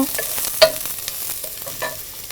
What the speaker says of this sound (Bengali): পেঁয়াজটা আমরা দিয়ে দিয়েছি আগেই ভাজা হয়ে গেল একটু ব্রাউন হবে